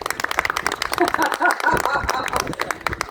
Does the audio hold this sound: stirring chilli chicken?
no